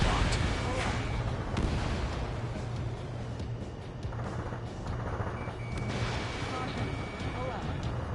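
Missile launches and booming explosions fill an Ace Combat 7 dogfight, with dense rumbling blasts and sharp bursts layered over continuous engine roar, loud and busy, while voices talk intermittently over the action.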